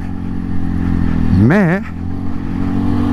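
A 2022 Segway AT6 SX 570 ATV runs with a steady mid-pitched engine drone while riding over cold, hard ground. The pitch rises and falls briefly in the middle, and someone speaks French over the engine.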